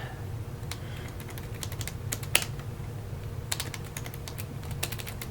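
Laptop keyboard keys on a Toshiba Satellite 420CDS being pressed while playing Tetris, irregular clusters of light clicks and taps over a steady low hum, close and fairly quiet.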